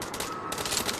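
Rapid automatic gunfire in a shooter video game, a dense continuous burst of shots lasting about a second with no voices heard.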